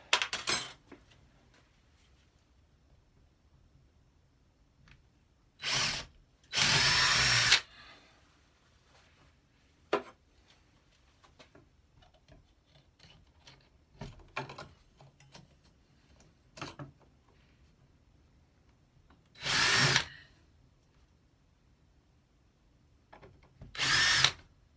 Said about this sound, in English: let's drill those